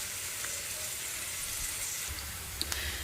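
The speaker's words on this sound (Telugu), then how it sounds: "ఈ ఉల్లిపాయ కొంచెం వేగాలి" Onion fries in a pan with a soft, even sizzle throughout, plus a couple of faint clicks near the end.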